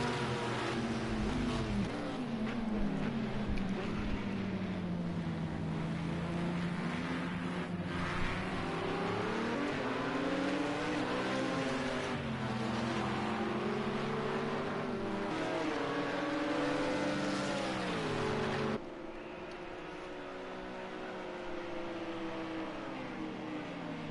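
Racing prototype cars at the Nürburgring roar past side by side, engines screaming at high revs with rising and falling pitch, loud and continuous, with a sudden drop in level near the end.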